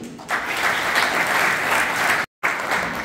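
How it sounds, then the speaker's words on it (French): An audience applauds its partners at a business forum, a dense burst of clapping that holds steady for about two seconds before a brief cut and resumes. "je vais demander à la salle de les applaudir."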